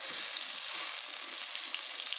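Garlic sizzling as it fries in a pan, a dense, even, close crackling hiss that holds steady throughout with no talk.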